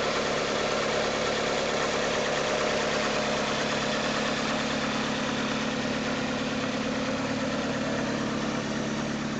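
Engine of a Nissan pure stock race car running at idle, a loud, steady, continuous rumble with even vibration throughout and no voices over it.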